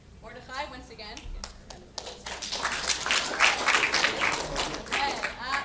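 Audience applause at a public speaking contest, scattered claps at first that build into fuller clapping from the crowd, with voices talking underneath.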